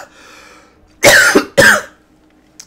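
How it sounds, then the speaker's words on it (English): A person coughs twice in quick harsh bursts after a faint stretch of background voice, with a small throat sound trailing at the end. "Still got that cough."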